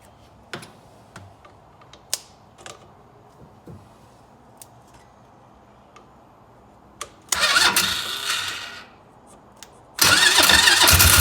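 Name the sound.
Polaris Ranger engine being cranked and starting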